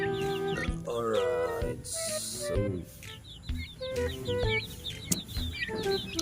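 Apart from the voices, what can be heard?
turkey clucking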